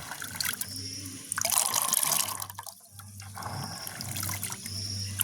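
Running water splashing and swishing as chickpeas are rinsed in a bowl, with a low hum under it and a voice talking briefly.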